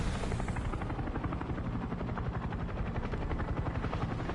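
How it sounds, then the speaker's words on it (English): In the video game War Thunder, a helicopter roars close overhead with steady, dense rotor chop, loud and unbroken, filling the whole stretch with no talk. "Helicopters. This is not going to end well for me"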